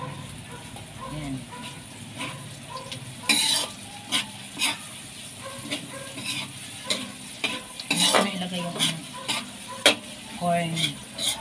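Corned beef frying in a pan, a steady sizzle broken by repeated sharp scrapes and clinks of a utensil stirring against metal, with occasional voices talking in the background.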